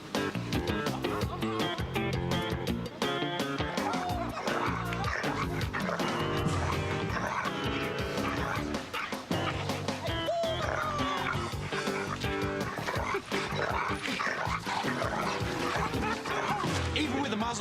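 An aggressive dog attacks during muzzle training, with barks, yips and whimpers breaking out over loud continuous background music that runs the whole time.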